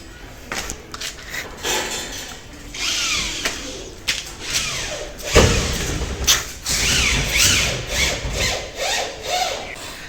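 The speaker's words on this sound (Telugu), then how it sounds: "మీకు ఇప్పుడు స్క్రూలు ఎలా వేయడమో ఒకసారి మీకు క్లారిటీగా చూపిస్తాను చూడండి" Screws being driven into UPVC roofing sheets while building a shed, heard as bursts of power-drill whirring and rubbing against the sheet, close and fairly loud, with short pauses between runs and no talking.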